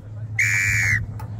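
A single sharp referee whistle blast, lasting about half a second, signals the start of a ball race game, ringing loud and clear over a low background hum.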